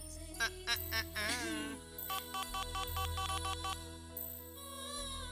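A melodic electronic phone tune plays on its own, bright chiming notes repeating in a quick pattern without any voices.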